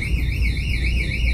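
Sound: store security alarm going off at Target

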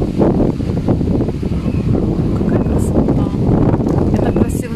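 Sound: wind blowing

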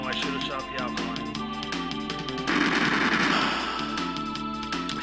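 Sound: gunshots in the video game Chrono Trigger

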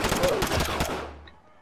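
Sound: gunfire in a video game (Squad)

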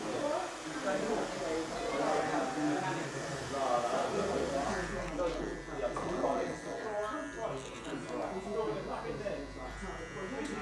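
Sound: electric clippers shaving hair in barbershop

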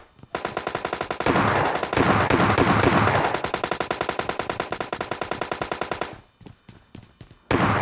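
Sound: gunfire in the video game PUBG Lite

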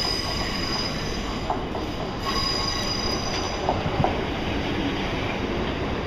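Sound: Class 442 train passing at Clapham Junction

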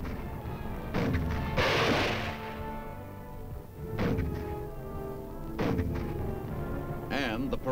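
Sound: artillery bombardment in Korean War archive footage

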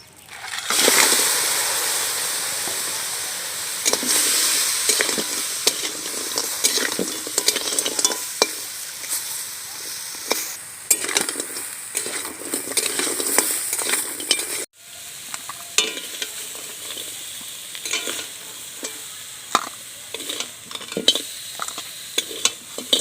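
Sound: frying sea crabs in oil

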